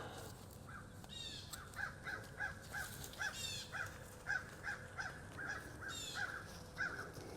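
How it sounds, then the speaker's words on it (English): Several crows caw repeatedly outdoors in a rhythmic series of harsh calls, faint and somewhat distant, with no talking. "The birds are like, what's going on?"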